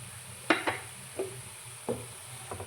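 Tomato paste and curry leaves go into softened onions frying in a pan, a soft continuous sizzle broken by a few spoon scrapes and clanks against the pan, close and without speech.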